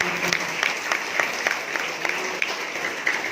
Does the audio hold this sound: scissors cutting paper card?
no